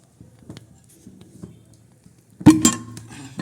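A metal kadhai (wok) is set down on a gas stove. A few faint light clicks come first, then one sharp, loud metallic clank with a short ringing tail.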